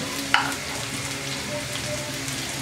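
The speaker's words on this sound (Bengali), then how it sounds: "পেঁয়াজটা দিয়ে দিচ্ছি।" Onions drop into a hot oiled pan with a brief burst of hiss, then settle into a steady, close sizzle with no voices.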